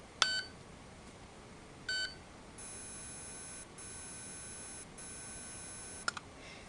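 Beeping from an Aetertek AT 218S remote dog training collar: two short electronic beeps, then a long steady tone broken by brief gaps, ending with a couple of clicks, faint and alone.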